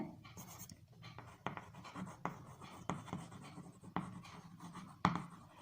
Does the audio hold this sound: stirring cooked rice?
no